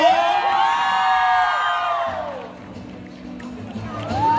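A crowd cheers and whoops with shrill rising voices to welcome a singer at a TicWatch E2 and S2 launch event in Lat Phrao, the loud, sustained cheering dipping midway before a fresh shout rises at the end.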